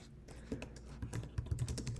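Rapid, uneven keystrokes clatter on a computer keyboard during a LaTeX speedrun typing game, a close, continuous burst of clicks with a few louder key hits, and no talking.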